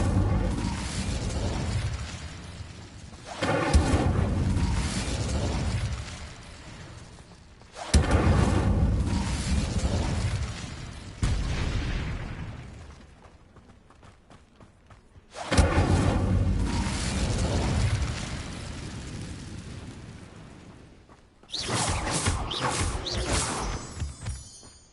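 Incendio fire spells in Hogwarts Legacy burst in a series of loud booming blasts with whooshing tails, separated by quieter gaps.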